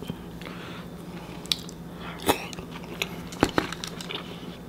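People eat a mushroom sauce dinner, with a few scattered, close bites and squishy chewing sounds popping out over a quiet room background.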